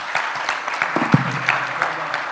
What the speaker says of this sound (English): Let's give a round of applause to my panel.